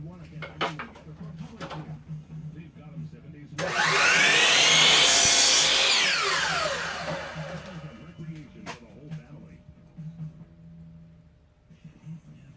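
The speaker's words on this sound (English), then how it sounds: "Take it back to the chop saw again." A chop saw bites through a piece of wood trim in one loud, close cut lasting a few seconds, rising and then fading as the blade winds down, with someone talking before and after.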